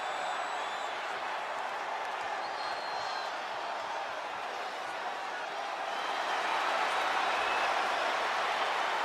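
Wrestling arena crowd in a wrestling video game, a broad, steady roar of many voices that swells louder near the end, filling the whole stretch without clear individual speech.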